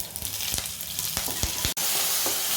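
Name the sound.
curry leaves added to hot pan for onion chutney, sizzling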